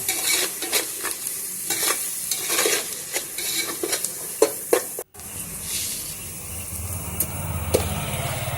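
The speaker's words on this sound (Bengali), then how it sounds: "আমি পরিমাণ মতন হলুদ গুঁড়ো দিয়ে ভালো করে পেঁয়াজটাকে কষিয়ে নেব" Onions sautéing with coriander, cumin and turmeric powder, a constant bright sizzle broken by rhythmic spatula scrapes and stirring strokes against the pan, close and fairly loud, with no voices.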